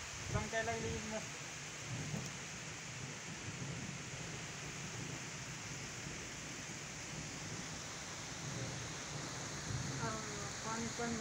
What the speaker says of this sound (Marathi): बघा बाबा पाऊस भरपूर पाऊस पडा